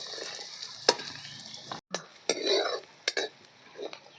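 Spices are tempered in hot oil used for frying litti, cooked over a clay stove, with sizzling, stirring and clinks of a utensil against the pan in short bursts, and a voice briefly audible.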